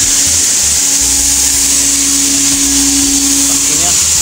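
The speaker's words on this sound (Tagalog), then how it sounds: "compressor nila Atlas GA55" An Atlas GA55 air compressor runs loudly and continuously inside an extrusion press plant, giving off a dense, steady roar with a faint hum under it and no breaks.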